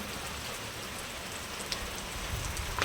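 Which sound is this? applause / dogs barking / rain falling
rain falling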